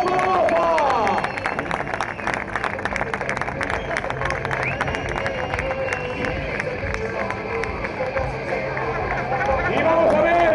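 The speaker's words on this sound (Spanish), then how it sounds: "¡Aplauso! ¡Aplauso para Mota!" A large crowd claps and cheers at a Zaragoza motor show after a motorbike stunt. The applause is loud and continuous, with voices and engine noise mixed in.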